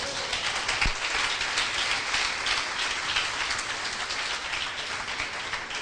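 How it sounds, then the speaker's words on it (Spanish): Church congregation applauding loudly and steadily, a dense, even wash of clapping that holds from start to finish with no voices over it. "Den un aplauso fuerte al Señor."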